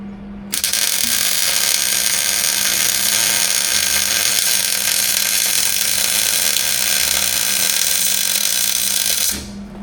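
A wire-feed welder runs a bead on a steel cargo trailer, a steady, close buzzing crackle that starts abruptly, holds without a break for about nine seconds, then cuts off, with a low electrical hum underneath.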